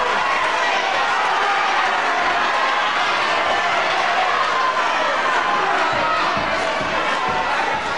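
A live wrestling bout crowd roaring loudly and steadily with cheers and shouts, a dense, unbroken wash of many voices close around the ring.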